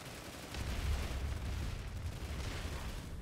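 Gunfire in the Planetside 2 video game, a dense, continuous barrage of shots with a deep low rumble, steady and loud from about half a second onward, with no talk.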